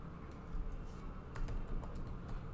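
Someone types Angular code on a computer keyboard: soft, quiet key clicks in uneven bursts, close by, with no voices.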